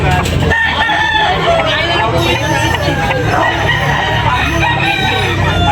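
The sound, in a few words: gamecocks (roosters) crowing and clucking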